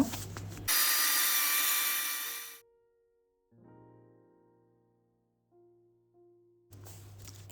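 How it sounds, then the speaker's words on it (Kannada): A kitchen mixer grinder blends fried cashews into a fine masala paste: a loud, steady grinding roar for about two seconds, then it cuts out, leaving a low motor hum and faint whirring as the jar settles. "ಅದನ್ನು ಈ ಥರ ಮಿಕ್ಸಿಲಿ ಹಾಕ್ಕೊಂಡು ಗ್ರೈಂಡ್ ಮಾಡ್ಕೋತಾ ಇದ್ದೀನಿ"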